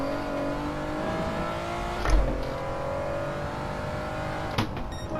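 Gran Turismo 7 race car engine droning steadily through a four-wheel drift, with sustained tonal revving and brief louder bumps near the start and end, no talk over it.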